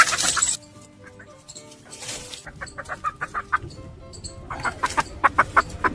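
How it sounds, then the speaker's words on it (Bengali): A chicken clucking nearby in a rapid series of short, rhythmic clucks that grow busier toward the end, after a brief burst of noise at the start. "এইটা বন্ধুরা মুরগিটা"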